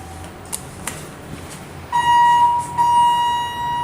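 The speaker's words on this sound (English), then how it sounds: "That's a loud beep." A museum elevator gives off a loud electronic beep, two sustained tones in quick succession after some faint clicks and quiet room noise.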